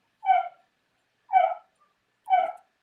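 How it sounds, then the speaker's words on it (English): A dog gives three evenly spaced barks or yips, each short and clear, heard close and alone against silence. "I hear dogs or something"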